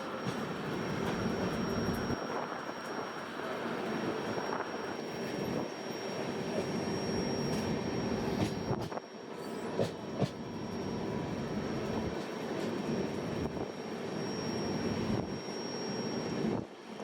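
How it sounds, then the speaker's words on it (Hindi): A daily passenger train running from Ahmedabad to Rishikesh rolls past on the line, with a steady rumble and clatter of wheels and carriages that is loud and close, plus a thin high whine above it and a few sharp knocks near the end. "योग नगरी ऋषिकेश तक जाती है अहमदाबाद से चलकर, ये डेली ट्रेन है।"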